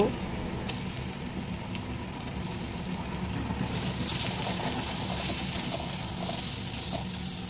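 Soybean chunks frying in a little oil in a wok give off a steady, even sizzle that holds at a constant level throughout, close by with no voices.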